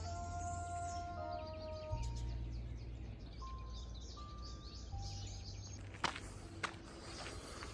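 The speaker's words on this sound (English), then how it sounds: "Like I can hear birds." Faint birdsong drifts through a quiet nature reserve: scattered chirps and short whistled notes over a low background hum, with soft footsteps partway through.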